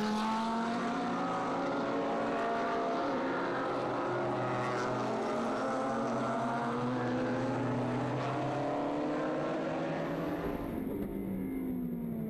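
Race cars, including Ferrari 458 Challenge machines, roaring past at Zandvoort circuit in the BRCC 2014 championship, loud engine notes rising and falling in pitch as several cars pass, with no voices.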